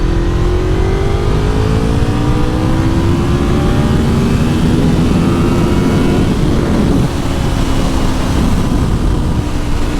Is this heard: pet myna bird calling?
no